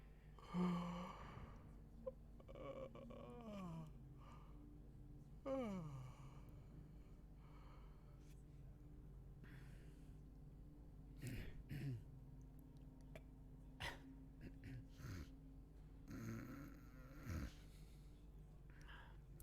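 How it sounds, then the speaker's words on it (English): Quiet human sounds from a video game: soft yawns and sighs come in several separate bursts, with faint shuffling between them over low background hum. "it's like yawning and just shuffling about like"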